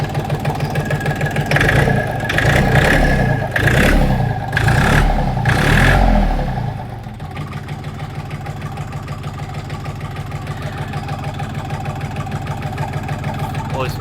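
A Kentavr 244 tractor engine warming up runs loudly and revs in repeated surges, then settles into a steady, lower idle rumble.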